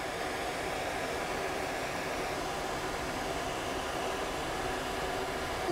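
Steady, loud hair dryer blowing air over a poodle's coat while its muzzle is dried, a continuous broadband whoosh with no pauses and no voices.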